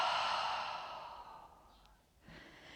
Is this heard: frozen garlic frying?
no